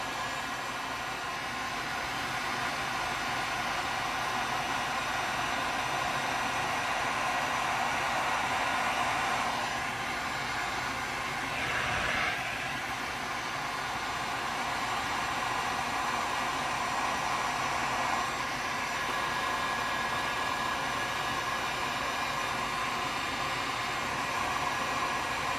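An embossing heat tool blows a steady, close whooshing hiss over ink on a glitter tumbler, holding unbroken for the whole stretch with only slight shifts as it is moved around.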